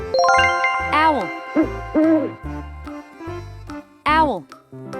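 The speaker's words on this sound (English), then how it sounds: "Owl." An owl calls with a series of clear, fairly loud hooting notes, some rising and falling, in short repeated phrases with brief gaps between them.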